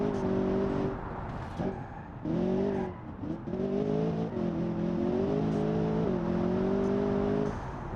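A V8 engine in a luxury grand tourer in the BeamNG.drive driving game revs in repeated rising and falling pulls, steady and fairly close, with brief dips between throttle blips and no talking.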